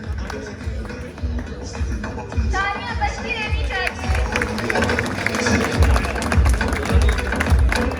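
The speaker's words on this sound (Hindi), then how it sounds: "तालियां बजती रहनी चाहिए।" Clapping from the audience at a bird show award moment, steady and fairly close, mixed with crowd chatter and a voice talking over it.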